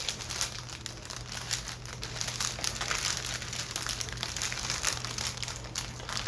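A white paper envelope is torn open by hand, giving continuous close crinkling and ripping paper noise at a fairly quiet, even level, with no talking.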